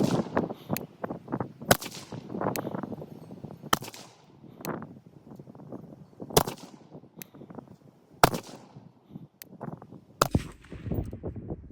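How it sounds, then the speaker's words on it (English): Rifle shots fired one after another to make a 10-shot group on a zeroed scoped rifle, sharp loud cracks spaced irregularly a second or two apart, each with a short ringing tail, no voices. "We're gonna shoot 3 10 shot groups and look at a 30 round target."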